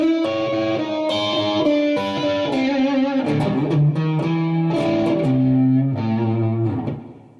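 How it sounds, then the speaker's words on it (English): A blues lick on an overdriven electric guitar, a run of distorted sustained notes and bends at a loud, even level that fades at the end, with no voice. "something like that, that has a blues sound, that has a certain attitude to it"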